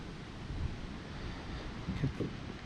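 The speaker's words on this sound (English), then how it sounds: "The wind is blowing pretty good." Strong wind blows outdoors beside the water where someone is fishing. It makes a steady, rough, low rushing noise with gusty swells and buffeting against the microphone.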